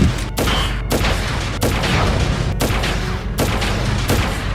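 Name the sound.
sniper shots at robots in video game Crisis Core Final Fantasy VII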